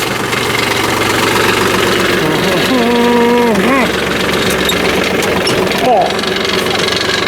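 A Ford 2N tractor engine runs steadily with a cultivator hitched, tilling manure into a garden, a constant loud mechanical drone throughout with brief whining tones rising midway and a person talking briefly over it.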